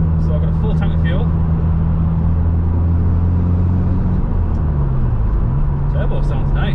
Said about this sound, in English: Turbo sounds nice.